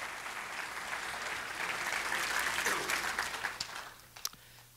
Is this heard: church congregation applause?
yes